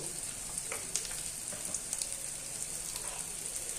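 Ground spices such as coriander, cumin and turmeric frying in a pan for a banana flower dish, a soft crackling sizzle with small pops scattered through it, fairly quiet and free of speech.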